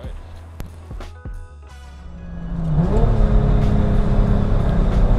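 A modified 500 hp Lexus IS300 with a swapped 1JZ engine revs, its low drone climbing near the three-second mark into a loud, sustained, steady high-rpm roar that holds to the end, after a few sharp clicks and knocks at the start.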